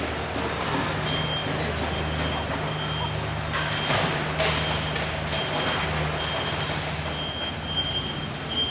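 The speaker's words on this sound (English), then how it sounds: "Sorry about all the background noise, by the way. There's so much construction going on everywhere these days." Construction vehicle reversing alarm beeping in a steady repeating pattern over continuous street construction noise, with the rumble of heavy machinery throughout.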